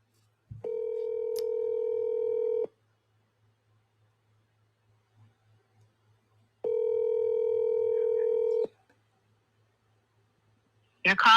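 Telephone ringback tone heard while calling someone, two long steady buzzing rings separated by a pause, clear and close, with a brief sound cutting in at the end.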